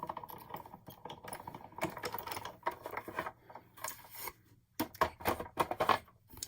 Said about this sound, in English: I'm going to pull out my Big Shot and we're going to die cut.